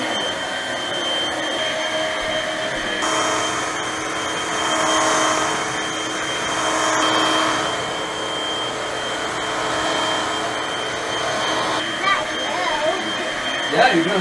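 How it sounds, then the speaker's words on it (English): A young boy runs a household vacuum cleaner, its loud steady motor whine rising and falling as it moves across the floor, with a few light knocks near the end. "He just totally said he wanted to vacuum."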